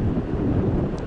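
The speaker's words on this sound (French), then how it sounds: "je vais encore avoir un peu le vent dans le nez" Wind buffets the microphone of a cyclist climbing a hill, a loud, steady, low rumbling roar with no other sounds.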